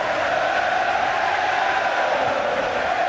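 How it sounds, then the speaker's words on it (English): The arena crowd at a David Haye world heavyweight boxing fight sings, making a loud, steady roar of many voices that fills the whole moment. "Crowd bursting into song here."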